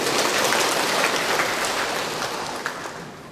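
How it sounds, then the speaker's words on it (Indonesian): Audience applause at a graduation ceremony, dense crowd clapping like steady rain, loud and sustained, gradually fading toward the end. "Tepuk tangan dulu buat Nusa Tenggara."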